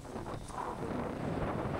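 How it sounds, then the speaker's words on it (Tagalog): Strong wind roars and buffets the microphone throughout, loud and gusty, with no voices. "First time lang nangyari lang humangin ng ganitong kalakas na ganitong katagal."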